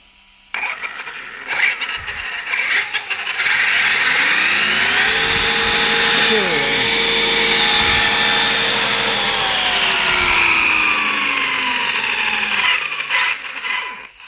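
Electric motor of a Team Losi LST3 RC monster truck revving under throttle, a continuous whine that climbs and falls in pitch through several sweeps for about fourteen seconds, steady and fairly loud with no talking.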